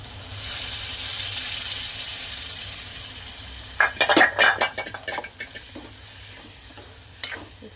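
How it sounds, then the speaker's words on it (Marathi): Steady hot-oil sizzle in a pan, then dal is tipped in for tadka with a burst of scraping, clinking stirs against the metal before the frying settles back to a soft hiss. "आणि बघा डाळ टाकून देते"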